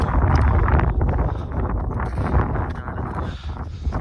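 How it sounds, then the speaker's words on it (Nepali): Strong, cold mountain wind on a trek buffets the microphone in loud, continuous rumbling gusts with no voices. "बब्बाल हावा चलिरहेछ होइन।"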